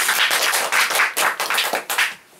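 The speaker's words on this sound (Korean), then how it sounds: "큰 박수 부탁드립니다" An audience applauds during a lecture, a brisk burst of close, loud hand clapping that thins out and fades at the end.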